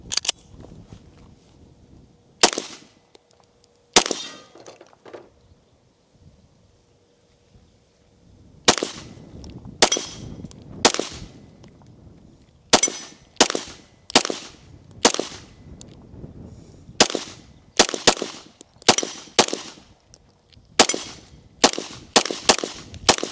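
Firearms shooting a magazine each at an outdoor range, sharp loud gunshots at irregular spacing, sparse at first and then coming in quicker clusters, with quiet background between shots.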